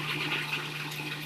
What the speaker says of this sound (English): I'm going to pour the water off the chickpeas and talk about that for a second